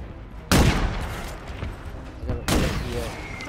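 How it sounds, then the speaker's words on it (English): Explosive mortar impacts in a military shooter game, two heavy booming blasts with a sharp onset and a rumbling tail, landing about two seconds apart amid continuous battlefield noise. "Hostile mortar strike in the area."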